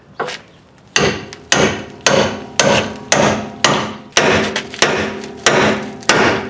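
A hammer hits the front steering spindle of a Ford Expedition/Explorer to pop the ball joint loose: about a dozen loud, close metallic whacks in a steady rhythm.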